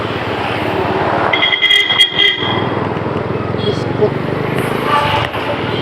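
Car horn honking on a busy street, steady tones blaring briefly for about a second over continuous traffic and engine rumble, close and loud.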